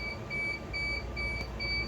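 A cryogenic box alarm set off by high temperature beeps in steady, evenly spaced high tones over a loud, constant mechanical hum.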